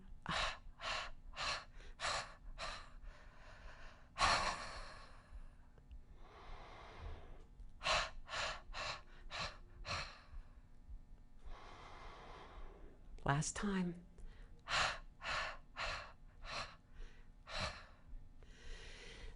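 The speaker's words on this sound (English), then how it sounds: "That's called staccato breathing, and that will relax you" Staccato breathing exercise with sharp, rapid sniffing inhalations through the nose in rhythmic bursts, broken by long whooshing exhales and sighs, close and clear, with a person speaking briefly between rounds.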